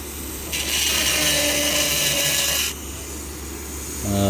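A rotary tool with a coarse bit grinds into fire agate, a bright high whine holding for about two seconds over a steady motor hum, then easing off before picking up again.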